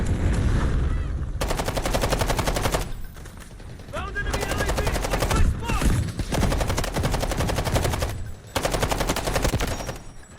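QBZ assault rifle fire in the shooter game Delta Force: several long, rapid automatic bursts, loud and close, separated by short pauses, with a player talking between and under the shots.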